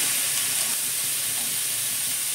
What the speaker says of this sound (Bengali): সেখানে বাঁধাকপিটা ভেজে নিচ্ছি।